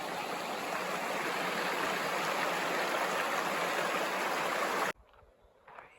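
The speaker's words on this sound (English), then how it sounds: "The Towel River and the bridge." Steady, full rush of a river flowing near a bridge on a Washington forest hiking trail, loud and continuous for about five seconds before it cuts off abruptly to quiet.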